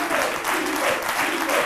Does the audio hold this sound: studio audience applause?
yes